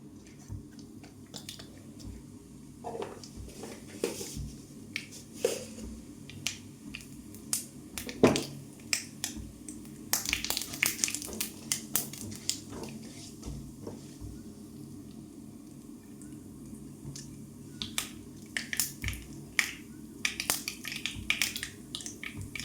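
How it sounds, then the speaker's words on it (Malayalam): Mustard seeds and a pinch of cumin crackle in hot coconut oil, a quiet close run of sharp scattered pops over a faint sizzle for over twenty seconds, no talking. "കടുക് പൊട്ടിയിട്ടുണ്ട്"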